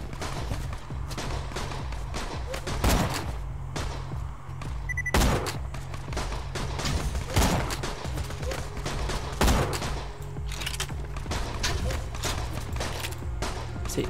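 Sniper rifle fire in the shooter game Borderlands 2: several loud, sharp shots spaced a couple of seconds apart over a steady, busy game backdrop with rumble and effects, no talk.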